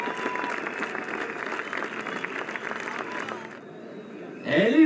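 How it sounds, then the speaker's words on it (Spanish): Sustained applause from a large crowd at the Vuelta a España cycling podium ceremony fills most of the clip, fading near the end as a voice begins speaking over it. "¡Aplauso al podium de la Vuelta!"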